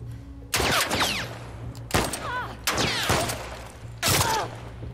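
Four separate bursts of gunfire crack out during a shootout in The Last of Us Part II, each sharp and ringing with echoing tails, spaced about a second apart over a low background hum.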